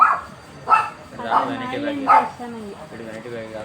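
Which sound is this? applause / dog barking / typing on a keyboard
dog barking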